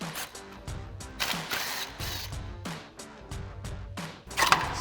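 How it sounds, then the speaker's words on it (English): A 10 mm socket loosening the bolts on a 2005-2015 Toyota Tacoma hitch plug bracket gives repeated, close, sharp mechanical clicking bursts in an uneven rhythm. "So we'll take our 10 mil socket and pop these off."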